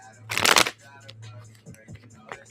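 Tarot cards are shuffled in one loud, brisk riffling burst lasting under half a second, followed by a quiet room with a low steady hum and a few faint scattered sounds.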